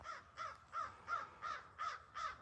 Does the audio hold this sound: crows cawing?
yes